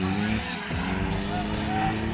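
A 4x4 off-road race car engine runs during a heat at a Costa Rica 4x4 pilots' championship race, a steady loud motor drone with rough low rumble and a brief dip in pitch midway.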